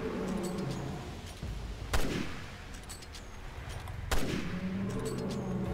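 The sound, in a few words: gunfire from a video game, Resident Evil Revelations 2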